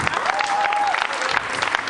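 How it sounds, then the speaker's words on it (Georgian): A studio audience on a late-night TV show fills the hall with dense, steady applause, while a brief whistle or tonal voice rises faintly over the clapping. "აპლოდისმენტები დარბაზში."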